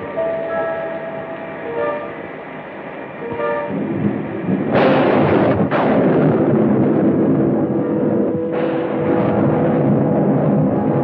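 Gunfire from the 1936 film Winterset comes in a few sudden, loud bursts that cut across a tonal music score.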